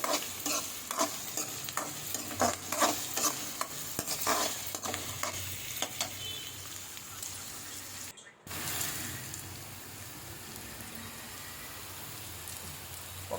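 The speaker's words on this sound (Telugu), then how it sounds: "ఉల్లిపాయ ముక్కలు కూడా వేసేస్తున్నాను ఆ విధంగా కలుపుతూ మంచిగా ఎగనీయాలి" Chopped raw onion pieces frying and being stirred in hot oil for green pea and capsicum fried rice, a steady loud sizzle with frequent scraping spoon strokes, then a brief gap before a softer, even sizzle continues.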